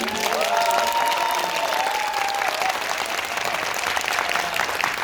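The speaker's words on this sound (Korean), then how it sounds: "재밌게 보신 만큼 박수 한번 크게 쳐볼까요?" A cinema audience claps loudly and steadily after a film screening talk, a thick continuous round of applause with a brief higher tone and faint cheering mixed in.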